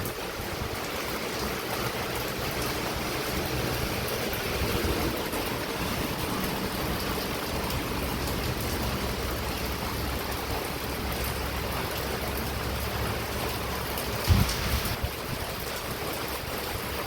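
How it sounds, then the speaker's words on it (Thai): Heavy rain pours during a storm in Laos, a dense, steady outdoor hiss that stays loud and unbroken throughout, with one brief knock near the end. "ฝนตกแล้ว"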